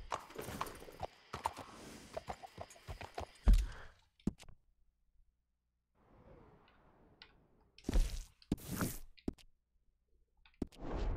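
A horse's hooves clop along at a walk in Red Dead Redemption 2, with sparse, uneven steps and scattered clicks, a near-silent gap partway through, and a louder burst of hoofbeats later.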